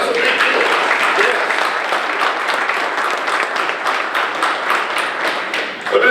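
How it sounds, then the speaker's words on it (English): An audience at a county State of the County morning session breaks into steady, sustained applause, a dense wash of clapping that continues for several seconds. "give them a round of applause"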